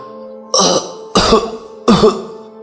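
Three short, harsh coughs from a woman in a row, close and fairly loud, each separated by a brief pause.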